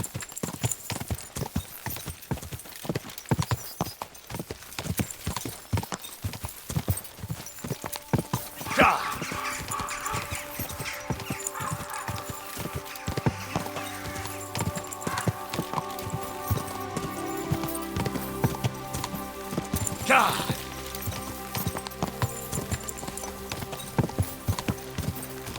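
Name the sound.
horse hooves clip-clopping in video game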